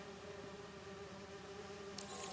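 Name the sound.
bees buzzing in a lab, Spider-Man 2 video game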